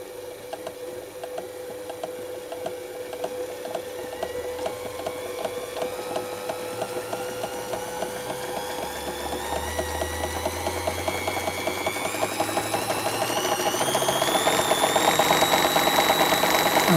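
Singer Fashion Mate 237 sewing machine stitching heavy-duty thread, its rapid mechanical clatter steadily accelerating and growing louder and higher in pitch over the run, with no talking.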